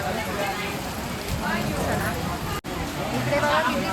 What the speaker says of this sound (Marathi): इकडे बघा किती फुल पाऊस आहे इकडे